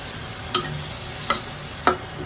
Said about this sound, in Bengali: ভালোভাবে কষাই নেব পেঁয়াজ রসুনটা দিয়ে আমি আবারও একটু কষাই নেব